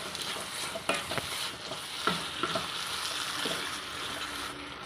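Chopped tomatoes fry and are stirred in a pan while prawn biryani is being made, giving a steady close sizzle broken by a few scraping stir strokes, with no talking.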